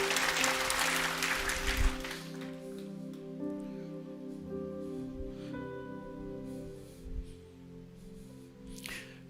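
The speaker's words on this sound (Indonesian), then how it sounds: "Beri tepuk tangan." Church congregation applauding during a sermon, a dense burst of clapping for the first two seconds that thins and fades beneath sustained keyboard or organ chords.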